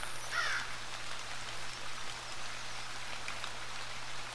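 Gentle rain falls steadily in the Zero Sievert video game, a soft continuous patter with a low hum beneath and a faint bird call early on.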